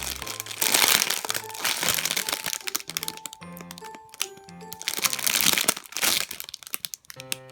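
Plastic packaging around a slow-rising Chaohwa dog-in-a-taiyaki squishy toy is crinkled and torn open in repeated crackly bursts, close and fairly loud, over soft tonal music underneath.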